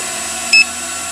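Zino Mini Pro drone sounding a short, high electronic beep as a low-battery warning, a single clear tone about a tenth of a second long over steady background hiss.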